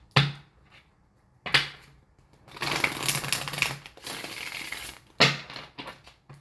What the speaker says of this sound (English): I always shuffle these cards beforehand.